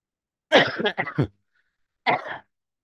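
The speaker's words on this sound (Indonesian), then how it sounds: "Batuk kok nggak sembuh-sembuh ya." A short burst of hacking coughs, then a pause and one more cough, close and fairly loud, with no talking.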